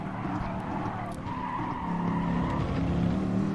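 Race cars in Gran Turismo Sport lose grip and skid, with a BMW, Lexus and McLaren tangling into a barrier; steady engine roar with tire squeal and scraping throughout, no talk.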